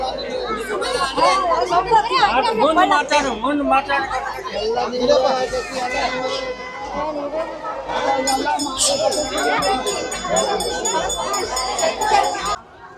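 A dense crowd chatters at the Renuka Devi fair in Kokatnur, Karnataka, with many overlapping voices close by, shuffling, occasional clinks and bright background tones throughout. Someone talks nearby.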